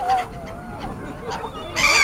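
Seagulls give several short, honking calls while being fed in flight. The calls come in separate bursts, and the last burst is the loudest.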